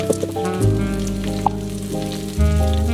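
Garlic slices and white scallion parts fry in avocado oil for a tofu stir fry, sizzling steadily and close with a few small pops under tonal background music.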